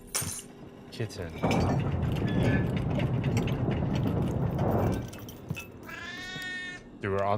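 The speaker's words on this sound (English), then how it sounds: "Kitten." A kitten meows in a video game, with a mechanical ratcheting rattle in the background and a few short mews near the end, while people talk over it.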